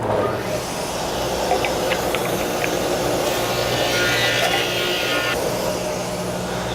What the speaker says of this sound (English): I'm going to turn it the rest of the way and keep sanding the other 3 through until I get to my 1/2 inch.